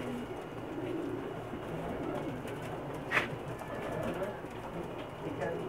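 Pigeons on a rooftop in Jeddah, Pakistani high-flying breeds, cooing softly amid faint outdoor ambience, with one brief sharper call near the middle and low background voices.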